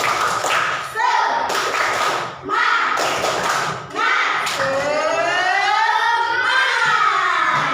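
A classroom of children chants a rhythmic clapping cheer, the tepuk semangat ice-breaker, led by a teacher. Groups of quick claps come in bursts between loud, sing-song group voices.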